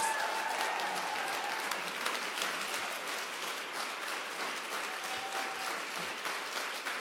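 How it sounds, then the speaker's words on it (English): Sustained applause from a crowd, steady and dense clapping throughout with no break. "Round of applause to our volunteers."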